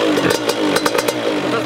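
A 50cc moped engine running just after its first start, revving with a steady buzzing drone and several sharp rises in pitch, close and fairly loud over the whole stretch.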